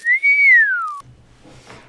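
A single clear whistled tone rises slightly then glides downward for about a second, stopping abruptly before faint background noise.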